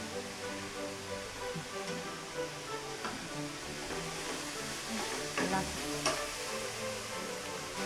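Grated coconut filling with dry fruits, ghee and cardamom powder being stirred in a pan for Sankranti kobbari poornalu, a soft steady sizzle with scattered scraping taps of the spoon.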